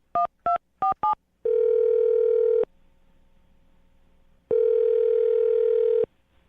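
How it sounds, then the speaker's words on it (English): Four quick telephone keypad tones beep in succession, followed by two long, steady ringback tones separated by a quiet gap while a phone call connects. "I'm going to dial her phone number right now"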